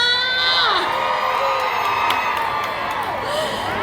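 Large indoor event crowd in Bangkok cheering and shrieking loudly, many high-pitched voices whooping together in one sustained roar.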